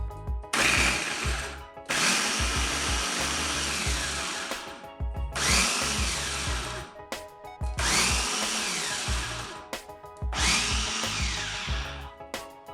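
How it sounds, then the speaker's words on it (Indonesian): A Mito Chiba electric chopper finely chops ingredients for purple sweet potato doughnuts, running in five loud, dense whirring bursts separated by short pauses as the motor starts and stops. "untuk menghaluskannya saya menggunakan chopper andalan dari Mito Chiba"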